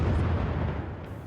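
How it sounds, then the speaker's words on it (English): A distant shell explosion in war-torn Aleppo booms as one heavy, rumbling blast that fades slowly over about a second, with no voices. "Did you hear that explosion now?"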